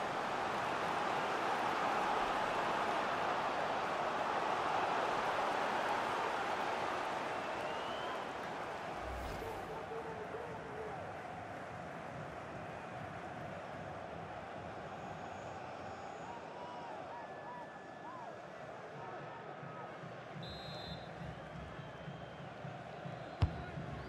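A large football stadium crowd roars in reaction to a chance during a Saudi league match between Al Hilal and Al Taawoun, a sustained loud roar that slowly fades while commentary carries on over it.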